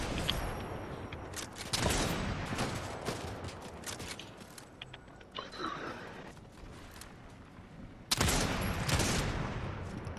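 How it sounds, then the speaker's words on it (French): Enemy gunfire in a solo shooter match crackles in sustained bursts, loud near the start and returning as a sharp heavy volley at the end, with quieter rumbling stretches between. "Tu vois les enfoirés qui me tirent dessus, là?"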